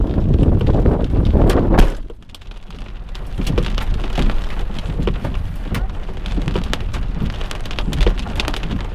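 Hail falling hard in a storm, a dense loud clatter of hailstones that drops off abruptly after about two seconds, then continues as a lighter steady patter with scattered sharp impacts.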